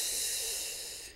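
A single smooth, airy breath hisses steadily and close, fading slightly toward the end, with no talking.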